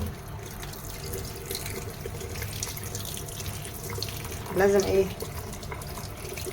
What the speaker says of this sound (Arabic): هنزلها بقى تحت الحنفيه، كل ده هنزله.